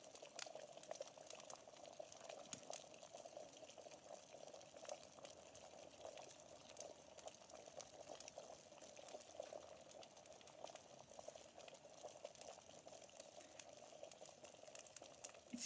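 Water boils steadily in a kettle or pot, a faint continuous bubbling hiss with small pops, quiet and unbroken throughout.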